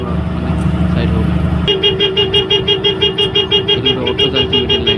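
In road traffic, a vehicle horn sounds in repeated pulsing honks over engine noise, loud and close, with a steadier tone before the pulses begin.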